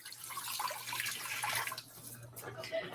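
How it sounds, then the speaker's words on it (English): Three cups of water poured into a pot for a budget Thanksgiving dinner: a faint, steady splashing stream for a few seconds, quiet and close, with no clear speech over it. "Going in with 3 cups of water."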